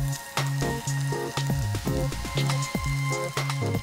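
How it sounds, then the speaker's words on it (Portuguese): Mushrooms toasting in a pan on the stove for a savory Dutch pancake, giving a steady sizzle and spatter with light repeated clinks, close and fairly loud with no talk. "E agora vamos para a panela tostar os cogumelos."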